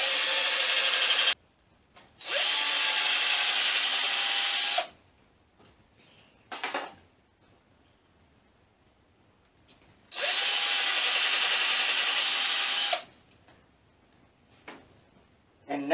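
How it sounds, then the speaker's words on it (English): A power drill bores holes in stained wood, giving two long, steady whirring runs of about three seconds each, a few short blips, and quiet pauses between them. "now I need to drill 4 more holes that I forgot to mark and drill before I stained them"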